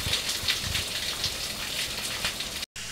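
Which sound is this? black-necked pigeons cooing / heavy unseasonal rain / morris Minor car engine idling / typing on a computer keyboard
heavy unseasonal rain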